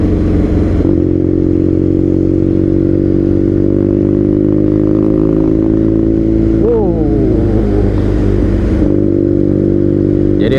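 BMW R nineT motorcycle engine running steadily at close range while riding, a continuous loud drone that climbs in pitch as the throttle opens near the end.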